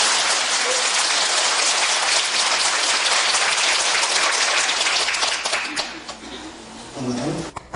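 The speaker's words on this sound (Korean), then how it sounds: "감사의 박수 힘차게 하고 시작합시다." A church congregation claps vigorously in thanks at the start of a sermon, a dense sustained wash of applause that fades out near the end as a voice briefly returns.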